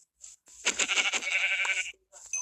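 A video game sheep bleats in a short, wavering cry, clear and close against silence, with a brief softer bleat at the start and another at the end.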